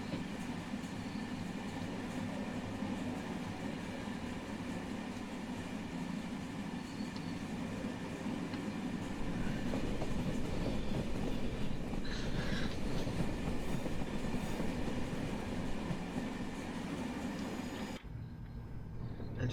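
An SNCF BB22200 locomotive hauls a high-speed sleeper train in a Train Simulator game, giving a continuous rumbling roll with faint rhythmic wheel clatter and a steady low drone, cutting briefly quieter near the end.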